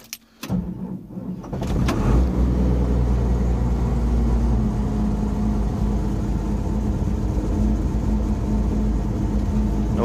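A fully rebuilt skidder engine idles briefly, then settles into a loud, steady diesel rumble as the throttle is opened a little, running continuously nearby with no talking.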